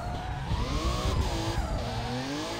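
Car drifting in the Russian Drift Series video game, a 370 sliding with sustained tire squeal over a revving engine whose pitch rises and falls, loud and continuous with no talking.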